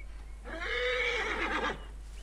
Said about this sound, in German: Schönes Pferdchen auf jeden Fall